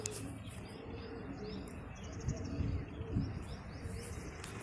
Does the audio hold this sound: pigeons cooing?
yes